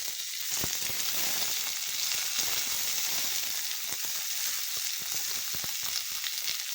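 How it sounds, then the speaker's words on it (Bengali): Onion and garlic fry in a pan with a fine, even crackle and scattered sharp pops, close by and fairly quiet, with no voices over it. "এবার পেঁয়াজ রসুনটা ব্রাউন কালার করে ভেজে নেব।"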